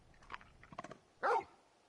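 A single loud dog bark rings out from the video game Final Fantasy 16. It follows a few fainter, scattered sounds and ends in near silence.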